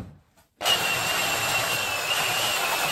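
A power sander grinds steadily across wood while building a bed frame, starting abruptly after a brief quiet moment and running loud and close as a continuous, even whir.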